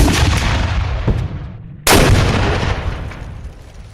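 Civil War battle sound effect of musket volleys and cannon fire: a rolling barrage of booming shots, then a sudden loud blast near the middle that fades into a long echoing rumble.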